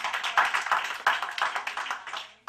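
Comedy club audience applause for a birthday, a modest crowd clapping steadily with uneven rhythm at moderate volume, fading out at the end.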